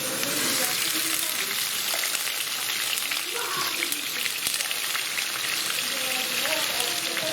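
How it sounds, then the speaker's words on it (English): Onions hitting oil in a preheated pan on an induction hob at mark 7, a loud steady close sizzle and spitting crackle that holds without a break, no talking. "I've preheated my pan, right, on the induction mark 7, and I'm going to put in our onions"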